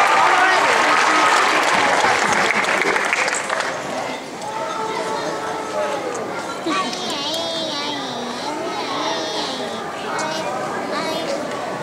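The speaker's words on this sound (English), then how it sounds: "Let's give a round of applause to the Flash." At a youth award ceremony, an audience applauds a girls' team in a lively burst of clapping that tapers off after a few seconds, followed by chatter and children's voices in the room.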